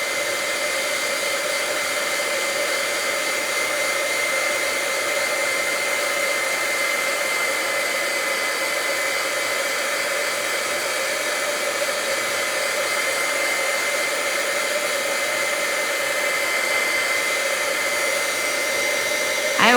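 A heat embossing tool blows hot air over a floral craft piece, a steady, loud, unbroken whoosh like a hair dryer that holds for about twenty seconds with no talking.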